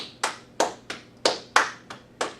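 Two people clap their hands together in unison, seven crisp, evenly spaced claps close by in a quiet room, each sharp and quickly fading.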